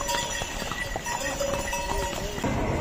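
Horse hooves clop in an irregular rhythm down a mountain trail on the Kedarnath pilgrimage route, a busy string of close hoof knocks over steady crowd and trail noise.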